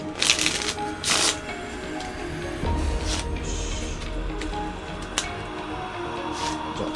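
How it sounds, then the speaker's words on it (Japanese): A deck of playing cards shuffled for a magic trick, with riffling bursts and soft slides and snaps spread across several seconds, close and moderately loud, with no talking over them. "でちょっともう一度シャッフル"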